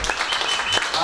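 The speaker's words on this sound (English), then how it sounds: "Can we have a round of applause for our judges, please?" An audience applauds judges at a poetry contest, a dense burst of clapping from a crowd that fills the hall briefly.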